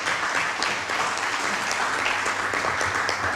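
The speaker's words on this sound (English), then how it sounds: "let us give Quincy another round of applause." A crowd at a Democratic Labour Party constituency branch meeting in Barbados claps steadily and densely throughout, the applause close and sustained.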